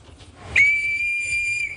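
A Chamber of Commerce agent blows a single sharp, sustained whistle blast, close and loud, to signal an earthquake evacuation drill for shopkeepers in Fort-de-France.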